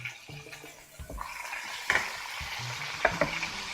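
A pork loin roast is laid fat side down in a hot pan and sears with a crackling sizzle, broken by clanks and scrapes of the pan and utensils.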